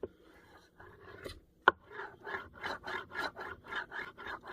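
A reconditioned thrust bearing from a Dewalt radial arm saw, rolled back and forth across a wooden board, gives a steady run of rhythmic rasping, rubbing strokes. The strokes follow a few scattered knocks and one sharp tap, close up, with no talking.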